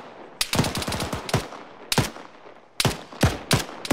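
Bursts of automatic gunfire from the military shooter video game ArmA 3 ring out in sharp, loud volleys of rapid shots separated by short pauses, each volley echoing briefly, with no talk.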